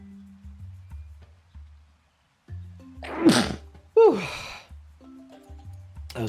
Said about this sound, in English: That was a big sneeze.